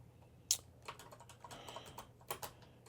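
Quiet typing on a computer keyboard while searching for a TV model online: sparse, irregular key taps close to the microphone, with a low hum running underneath.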